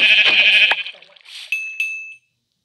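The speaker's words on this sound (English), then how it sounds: "I knew I was going to find different colored sheep" A sheep in a video game gives a loud, close bleat, followed by a couple of short fading chimes.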